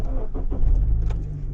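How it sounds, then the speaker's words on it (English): Honda Civic Type R FN2 engine starting via push-button: a brief cranking burst that catches into a steady low idle rumble, close and fairly loud, with no talk. "And now the car fires up."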